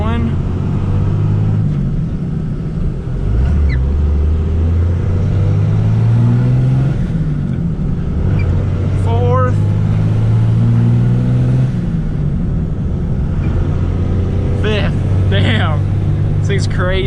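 2001 Dodge Ram 2500 Cummins diesel truck with a 6-speed manual pulling away and shifting, a loud low engine drone climbing in pitch across gears, with someone talking over it.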